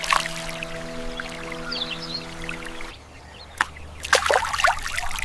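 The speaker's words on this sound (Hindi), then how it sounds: "अब खेत में पानी भर रहा है।" Water runs into a rice paddy field in a steady, close trickle, joined early on by a low droning hum that cuts off partway through, leaving splashy gurgling and a few sharper splashes.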